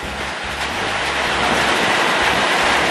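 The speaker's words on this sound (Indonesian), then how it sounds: "Wah, angin kencang guys." Strong wind gusting steadily at an outdoor hangout spot, a loud continuous roar with surf-like rushing buffeting the microphone throughout, no voices heard.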